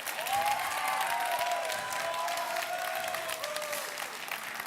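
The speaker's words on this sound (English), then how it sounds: "just everyone on this side, just make a gentle clapping, please" Gentle clapping from one side of a gala ceremony audience, a steady continuous patter of many hands at moderate level for several seconds without pause.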